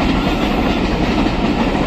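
A train rolls past near a local cricket match, a loud, steady rumble with rhythmic clickety-clack of wheels over rails filling the whole moment.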